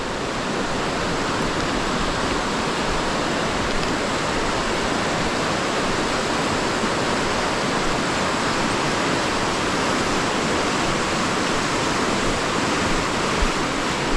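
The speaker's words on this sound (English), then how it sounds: "that's the water coming in. That's the water going out." Rushing water flows in and out as a steady, broad roar that holds at a constant, loud level for the full length with no voices.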